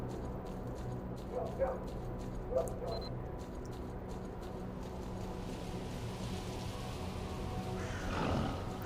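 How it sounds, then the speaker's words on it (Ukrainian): Dogs barking, yipping and whimpering in the video game S.T.A.L.K.E.R.: Call of Pripyat, a few short barks and whines at mid-distance over a steady ambient game drone. "Ой, знову собаки."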